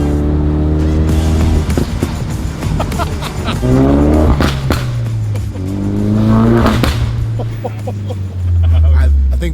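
A BMW with the stock RS tune accelerates hard from close by, its engine revving up through several gears with clear shift drops, loud and continuous throughout.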